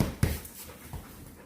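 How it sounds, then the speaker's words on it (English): A pet dog pants in quick breathy puffs close to the microphone, with a short whimper near the start, heard alone without speech. "now I'd like to bring in our co-host, my dog, Cammy."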